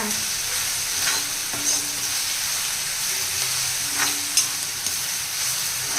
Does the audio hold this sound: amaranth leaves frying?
yes